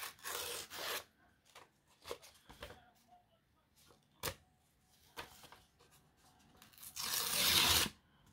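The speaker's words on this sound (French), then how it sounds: "je vais venir déchirer un peu ce bord-là quand même" Paper being torn by hand along an edge for an art journal page, several short ripping strokes spaced apart with quiet pauses, ending in one longer, louder tear close by.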